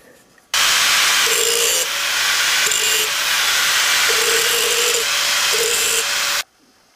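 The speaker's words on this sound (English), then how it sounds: "So, break the edges with the angle grinder." A loud, steady angle grinder works the edges of a metal part on a Keene Engineering dry washer, whining without pause for about six seconds before it cuts off abruptly.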